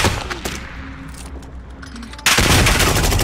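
Rapid gunfire in a multiplayer shooter video game, a dense burst that jumps suddenly louder near the end, with no talk over it.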